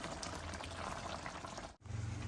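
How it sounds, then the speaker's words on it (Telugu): Water is poured into a pan of simmering ripe mango curry. A steady close hiss of liquid runs almost unbroken, breaks off briefly near the end, then the low bubbling of cooking resumes. "కొద్దిగా వాటర్ వేసుకుందాం ఎందుకంటే ఇంకా ముక్క కొంచెం దగ్గర మెత్తబడాలి"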